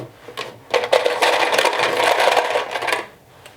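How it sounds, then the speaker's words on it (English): Sewing machine stitching a quarter-inch seam around the pinned edge of a vinyl-style cosmetic bag, a steady close whirring run that starts after a couple of short bursts and lasts about two and a half seconds before slowing to a stop. "So now we're going to sew around the pinned edge."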